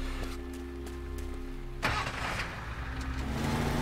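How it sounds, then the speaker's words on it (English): A truck engine in the game Teardown idles with a steady low hum, then roars up under throttle with a sudden surge as the vehicle drives off, loud and close with no one talking. "we take the truck straight off, we reverse this one straight down"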